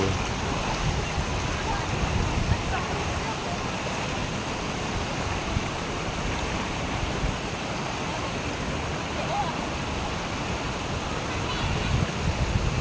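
A river flows steadily over rocks at the Dupinga River in Gabaldon, Nueva Ecija, giving a constant broadband rush of water that stays even and fairly near throughout.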